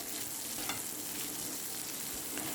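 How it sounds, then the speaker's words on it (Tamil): Sliced onion frying in a pan, a steady close sizzle with faint stirring crackles running throughout, no voices. "அடுத்து நீட்டு வாக்கில் கட் பண்ண வெங்காயம் போட்டுடலாம்."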